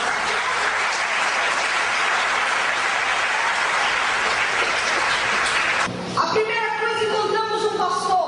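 A church congregation applauding during a sermon, a dense, loud, sustained wash of clapping that cuts off after about six seconds as a held musical tone and voices take over.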